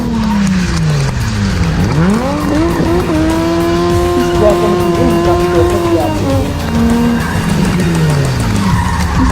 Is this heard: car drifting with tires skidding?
yes